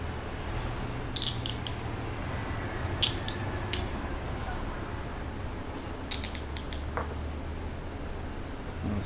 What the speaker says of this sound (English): give it my best attempt to get out of them with a paper clip